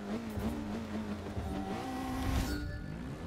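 A car engine in Forza 6 revving hard up to redline in an all-wheel-drive quarter-mile run, a rising whining tone that climbs and briefly drops between shifts, moderately loud and alone without talk.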